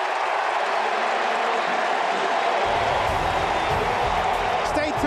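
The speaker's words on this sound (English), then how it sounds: "And the crowd loves it." Stadium crowd at a 2006 Cowboys vs Falcons football game roars steadily at halftime, a dense continuous wall of cheering and applause with a little broadcast talk mixed in.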